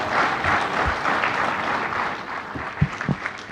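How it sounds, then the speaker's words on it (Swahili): Broad, steady applause from an audience at a business forum honouring the President, a dense clapping wash that holds throughout, with a few louder claps standing out near the end. "Naomba kwa mara nyingine tena tumpigie makofi Mheshimiwa Rais tafadhali"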